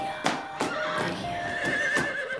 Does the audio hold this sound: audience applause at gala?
no